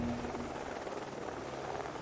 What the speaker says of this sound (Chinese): 飞机很快就要起飞了、各位特种兵、请准备。